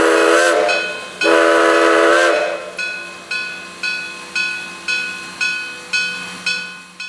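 Steam locomotive 1702 of the Great Smoky Mountains Railroad hauls the Polar Express up the Tuckasegee, opening with two long loud whistle blasts, then a steady run of sharp, evenly spaced exhaust chuffs that ring out close by.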